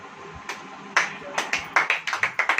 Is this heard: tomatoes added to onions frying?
no